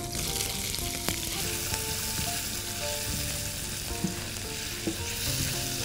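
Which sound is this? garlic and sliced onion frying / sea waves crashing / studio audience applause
garlic and sliced onion frying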